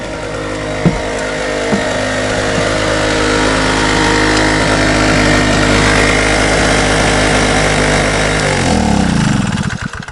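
A generator engine runs loud and steady at a forest hunting cabin, a constant close droning hum with a couple of brief knocks, then it winds down and slows near the end as it is switched off.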